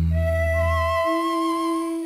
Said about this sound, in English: It's the sound of human brain waves put to musical tones.